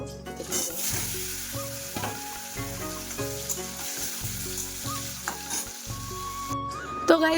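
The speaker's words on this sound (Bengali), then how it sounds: "দেখো এদিকে আমার আলু প্রায় অনেকটা ভাজা হয়ে গেছে" Steady crackling sizzle of potatoes frying in hot oil, with occasional stirring scrapes and a clatter near the end.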